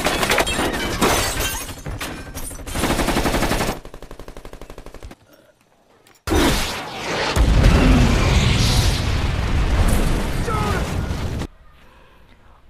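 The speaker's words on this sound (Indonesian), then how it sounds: "mobil Jack pun meledak" A car explodes in a film scene: bursts of rapid gunfire and shattering glass, a brief quiet gap, then a loud sustained blast with debris roar that cuts off abruptly near the end.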